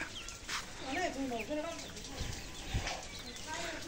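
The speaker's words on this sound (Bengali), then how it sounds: "এ মুরগি না সবচেয়ে বড় হয়েছে" A chicken clucks in a series of short calls over a few seconds, somewhat distant and faint, mixed with outdoor background noise and voices.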